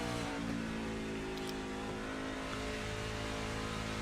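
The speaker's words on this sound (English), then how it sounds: "You hear how much he's having to get out of the throttle to get around, get the car rotated to get through the turn." A race car in a racing video game set at Auto Club Speedway in Fontana lifts off the throttle, the engine note sliding downward as the revs drop. It sounds loud and close, with no talk over it.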